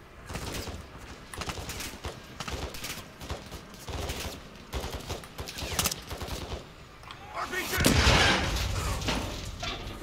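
Gunfire in the Modern Warfare 2 campaign on Veteran difficulty, bursts of automatic fire and scattered shots crackling throughout, building to a loud heavy blast near the end, with faint voices mixed in.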